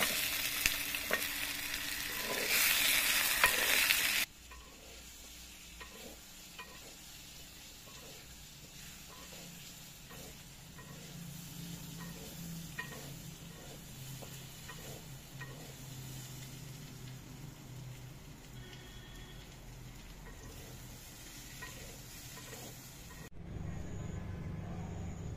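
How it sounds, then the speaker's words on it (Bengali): Potato and papaya frying in a clay pan over a stove, a steady sizzle with repeated stirring scrapes, loud at first after a burst of noise, then continuing evenly at moderate level with no talk. "আলু আর পেঁপে ভাজা ভাজা হয়ে গেছে"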